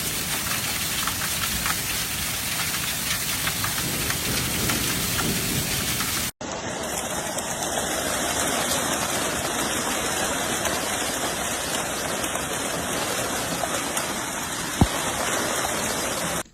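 Heavy rain pours in a steady, roaring wash during a violent Montana storm, dense and loud throughout, broken by a brief cut partway through and one sharp thud near the end.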